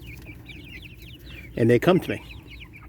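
Backyard chickens cluck in a short burst of close, loud calls, with quieter chirps and soft bird sounds around them and a person speaking briefly over the flock.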